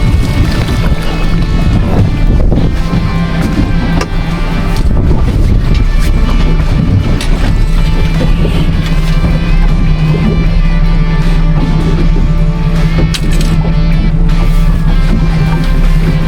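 A motorboat rumbles by on Saginaw Bay with churning wash and gusts of wind buffeting the microphone, loud and close throughout.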